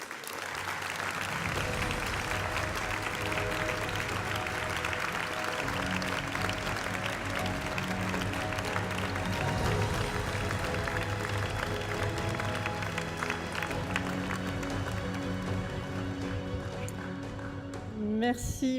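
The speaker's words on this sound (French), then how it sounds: "je vous demande d'accueillir et d'applaudir chaleureusement Madame" An audience at a swearing-in ceremony gives sustained, dense applause for Nicole Calvignac, a full roomful of clapping holding steady before dying out at the end.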